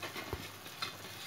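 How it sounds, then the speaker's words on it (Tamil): Athirasam, a Tamil sweet made from dough, fries in hot oil on a stove at medium heat. A soft, continuous sizzle is heard up close, broken by a couple of brief louder stirring or splashing bumps. "இந்த மாதிரி பொரிச்சுடுங்க. அடுப்பை வந்து மீடியம் ஹீட்டில் வச்சுக்கோங்க."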